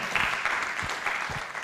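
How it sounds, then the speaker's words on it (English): A brief burst of steady, dense clapping from an audience applauding the chairman at an economic performance review launch event, with no one speaking over it. "let's keep that applause going for our chairman"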